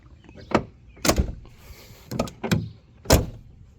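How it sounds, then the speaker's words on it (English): Several solid car door thunks from a 1980 Lincoln Continental Town Car with PEX-modified doors, five distinct slams spaced across a few seconds, close and fairly loud with some faint clatter between. "I did already do the old PEX pipe mod on the doors, so they shut fairly nicely."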